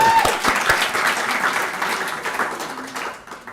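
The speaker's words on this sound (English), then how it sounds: "we have to applaud Professor Mwabu again" An awards-ceremony audience claps for Professor Mwabu in a research excellence category, a loud close burst of applause that starts strong and gradually tapers off over a few seconds.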